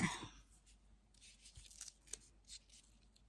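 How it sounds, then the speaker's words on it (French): Scissors snip through 3D craft foam for a scrapbooking project, several quiet, crisp cuts spaced irregularly, close by and alone. "J'adore la mousse 3D, la découper. Ça me nique tous les ciseaux."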